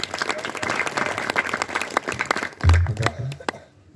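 Audience clapping at a Hindu kirtan devotional gathering for a Datta Jayanti festival, a dense run of claps filling the space with a louder low thump near the end before it fades out.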